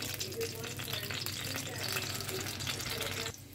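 Four or five cut garlic cloves frying in a little oil in a pan, a steady close crackling sizzle that runs throughout and drops away just before the end.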